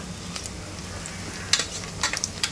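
Onions with spices and a little salt frying in a pan for a bhindi mutton dish, a steady low sizzle broken by a few sharp crackles and spatters near the end.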